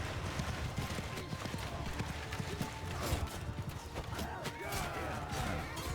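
Many horse hooves pound in a dense, rapid galloping clatter amid a busy battle din in Mount and Blade II: Bannerlord, Sturgian horse raiders charging, with a voice speaking faintly underneath.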